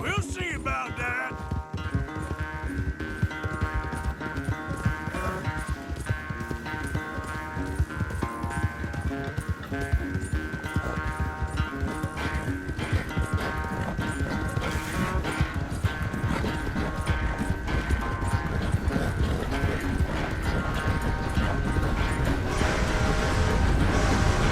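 A horse gallops in the Red Dead Redemption 2 video game, with rapid rhythmic hoofbeats running steadily under game music and sound effects for the whole stretch, loud and close, with no voices.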